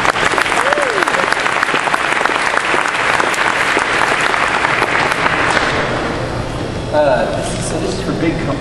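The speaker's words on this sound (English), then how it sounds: "And give him a big hand." An audience at a hack day gives sustained, loud applause, dense clapping that fills the room and then thins out toward the end, with some voices mixed in.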